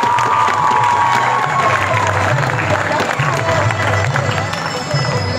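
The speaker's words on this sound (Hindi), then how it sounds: "तो भरपूर तालियां होनी चाहिए।" At a school Teacher's Day event, a crowd claps and cheers loudly, with shouts and whistles over steady applause and chatter in a lively hall.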